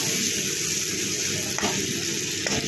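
Water added to sizzling spice paste in a pan while cooking prawn malai curry, a steady loud hiss and frying crackle with a couple of faint clinks.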